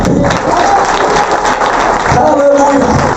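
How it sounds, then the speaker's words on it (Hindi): Church audience at a sermon applauding for Jesus, loud sustained clapping from a crowd throughout, with a voice faintly mixed in. "जोरदार ताली यीशु"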